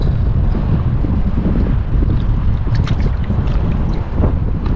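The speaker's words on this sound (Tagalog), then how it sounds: "grabe yung hangin, ang lakas." Strong wind buffets the microphone on a small fishing boat out on the water, a loud, steady roar of gusts with faint splashing and no talk throughout.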